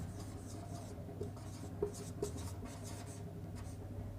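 Marker or chalk strokes scratch across a board as C program code is written out, a series of short, light rubbing and tapping strokes at close range with faint room hum and no talk.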